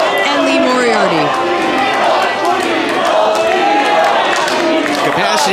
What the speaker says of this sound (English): Capacity crowd on hand here tonight inside Mr. Small's Theater in Pittsburgh